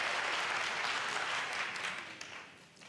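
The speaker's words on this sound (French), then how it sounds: "L'assistance applaudit et applaudit bruyamment." Loud, dense applause from an audience, steady and continuous before tapering slightly near the end, with no speech over it.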